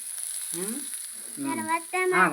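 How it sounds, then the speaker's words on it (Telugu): Ginger, garlic and curry leaves fry in hot oil for vegetable fried rice, a soft steady sizzle under a woman's speech that comes in short bursts. "అల్లం వెల్లుల్లి వేసి కరివేపాకు వేసాం. అవి వేగుతుండగా"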